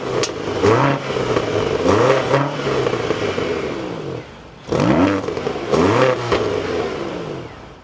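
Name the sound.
BMW XM plug-in hybrid starting up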